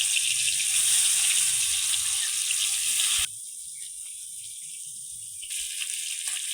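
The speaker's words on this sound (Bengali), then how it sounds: "এবার কড়াতে তেল দিব। এবার মাছগুলো একে একে দিয়ে ভেজে নেব।" Pangas fish pieces frying in hot oil in a kadai give a steady, close sizzle and crackle throughout, briefly dropping in strength partway and then swelling again.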